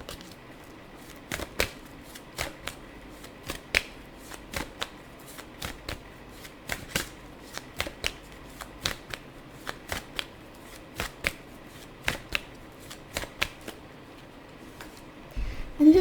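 Tarot cards shuffled and riffled by hand in a quiet room, a long run of crisp snapping flicks at an uneven rhythm, close and clear with no talking.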